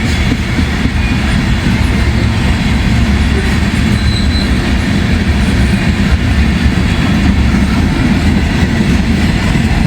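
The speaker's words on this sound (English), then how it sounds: "Oh, nice cut of boxcars right here." A freight train rolls steadily past up close with a cut of boxcars, its loud low rumble and wheel clatter filling the whole stretch with no let-up, plus faint wheel squeal.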